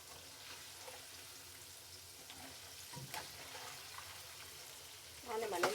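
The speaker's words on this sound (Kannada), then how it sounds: "ಫ್ರೈ ಆಗಲಿ, ಅದು ಒಂದು 5 ನಿಮಿಷ ಬೇಕು ಫ್ರೈ ಆಗೋಕ್ಕೆ." Homemade chicken kebabs frying in a pan make a faint, steady sizzle with a few light stirring clatters, ending in a louder burst of handling noise near the close.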